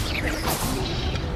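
In Hogwarts Legacy, the Expelliarmus disarming spell fires as a quick whoosh ending in a sharp crash-like hit, close and brief.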